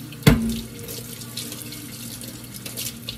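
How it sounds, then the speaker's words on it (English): Water runs steadily from a kitchen tap while fish is washed in the sink, a continuous hissing splash with a sharp clatter at the start and small splashes throughout. "Running water."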